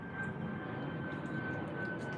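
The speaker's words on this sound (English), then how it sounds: "There's a plane." An airplane passes overhead outdoors as a steady, fairly loud engine drone and broad rumbling roar, with a faint high whine, holding even for the whole stretch with no talking.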